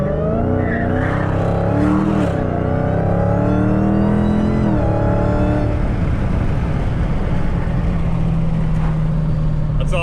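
Dodge Hellcat with engine modifications accelerates hard from close by, its supercharged engine revving up through rising pitch before the roar drops off into a rougher, steadier drone as it pulls away.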